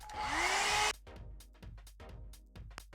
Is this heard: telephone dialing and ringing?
no